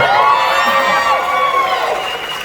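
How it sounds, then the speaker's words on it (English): A theater audience at a live Bruce Campbell appearance in Jacksonville, Florida cheers and shouts in a loud, sustained roar that fades a little toward the end, with no clear speech. "Thanks for cheering 2 years late"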